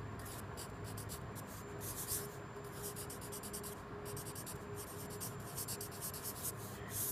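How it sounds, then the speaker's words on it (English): Pen or pencil writing a name on the inside front cover of a new sketchbook, a soft continuous scratching and rubbing in short bursts, close and quiet with no talking. "write your name right here"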